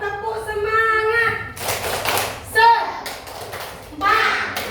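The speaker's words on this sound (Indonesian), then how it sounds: "Nah, ayo tepuk semangat." Fourth-grade pupils in a civics lesson do a rhythmic chant-and-clap routine, with children's voices chanting between short, sharp bursts of group clapping.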